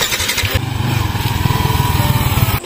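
A motorcycle engine running close by, a steady low chugging rumble with a rhythmic pulse that holds for the whole stretch before cutting off sharply near the end.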